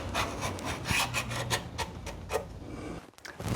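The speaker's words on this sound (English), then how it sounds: "now you take your scribe and mark that edge" A scribe scratches along the edge of a metal floor pan on a 1964–72 GM A-body, giving a close, steady rubbing rasp with faint ticks, then a brief quiet moment.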